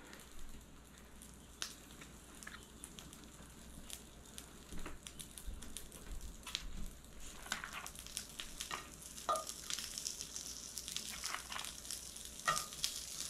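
Bacon fries in a hot pan, a steady soft sizzle with scattered crackles and pops running throughout at low, even volume.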